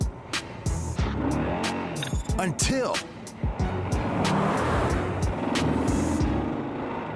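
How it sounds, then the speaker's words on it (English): A white car speeds dangerously past a motorcyclist on a Denver road, its engine roaring up close with squealing tires. Voices talk over the passing car throughout. "a white car speeds dangerously by him"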